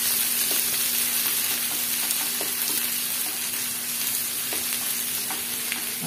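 Crushed onion and garlic sizzle steadily in hot coconut oil, a dense close-up frying crackle with occasional stirring clicks throughout, no voices.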